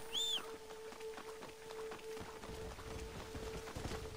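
Horse hooves plod along in Red Dead Redemption, a soft, steady run of low thuds at an even walking pace, moderately quiet, with faint bird chirps at the start and no voices.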